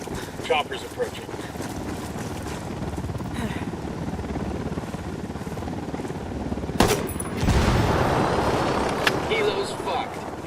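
A helicopter approaches during a Ghost Recon Wildlands firefight, its rotor thrum growing under gunfire bursts and chaotic game noise, loudening in the final seconds.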